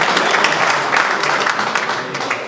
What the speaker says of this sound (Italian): Facciamo un applauso alla nostra direttrice